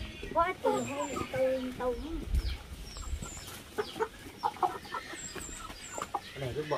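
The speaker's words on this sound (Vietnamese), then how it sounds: "Tầm bây giờ chiều chiều là con gà bắt đầu về ăn rồi" Chickens on a farm clucking as they return for their afternoon feed, with scattered short clucks and calls mixed under people talking nearby throughout.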